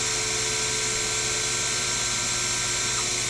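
Sherline CNC mill run in manual mode, cutting metal about half a millimeter per pass: a steady high whine with a busy grinding texture, constant and close, with no voices.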